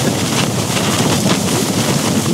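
Steady, loud wind buffeting the microphone on a trek in Sarek, Lapland, a continuous roaring rush with no voices.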